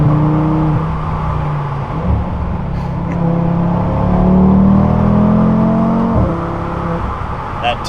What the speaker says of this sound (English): you can just hear like in between shifts and then when the new gear starts going